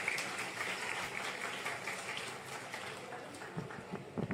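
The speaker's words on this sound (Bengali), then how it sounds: "একবার জোরে হাততালি হোক সকলে মিলে।" Audience clapping at a Rakhi Bandhan festival event, a soft, distant wash of applause from a gathered crowd, steady and faint throughout.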